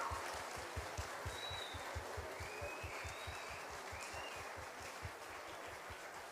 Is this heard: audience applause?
yes